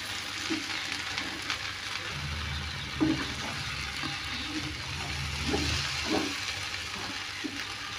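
Bread pieces mixed with masala deep fry in hot oil for a wheat bread snack, giving a steady close sizzle and bubbling with a few soft clinks from stirring.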